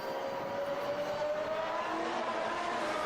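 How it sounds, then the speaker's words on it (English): A Mercedes W17 Formula 1 car on a wet Silverstone track during a shakedown, a loud continuous high-pitched engine whine passing close by with a rising tonal pitch and steady roar, no talk. "Was that the car? Why did it sound like a rocket ship?"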